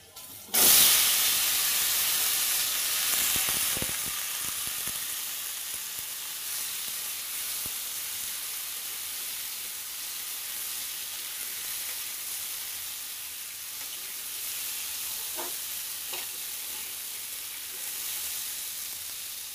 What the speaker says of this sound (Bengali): এখন জালি কুমড়াটা দিয়ে দেব